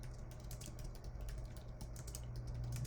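Quiet, quick keystrokes tapping on a computer keyboard while typing a store notice into a WordPress dashboard, a soft continuous clatter over a low hum with no talking.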